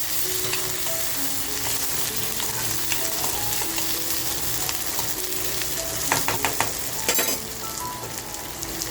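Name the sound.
cherry tomatoes added to a frying pan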